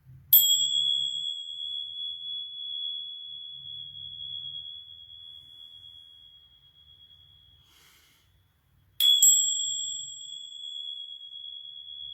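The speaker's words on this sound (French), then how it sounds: "je vais faire un petit coup de gong ou deux pour nettoyer mon cristal" A small gong struck twice to cleanse a crystal during a healing session, each strike a sharp onset followed by a long, pure ringing tone that fades slowly, in a quiet room.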